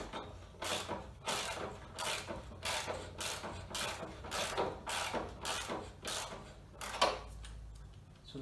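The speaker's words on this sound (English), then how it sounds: "we've got 11/16 socket, just have to crawl underneath and tighten these" A socket wrench ratchets repeatedly while radiator bolts are tightened on a Ferguson TED20 tractor, with an 11/16 socket used from underneath; the clicking bursts come in a steady series of short strokes, fairly close, with no talk.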